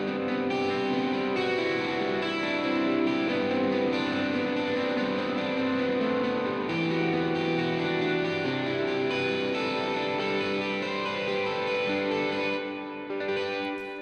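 An ambient electric guitar runs through effects such as distortion, chorus and echo, with too many notes stacking into a muddy, sustained wash that swells continuously before thinning near the end.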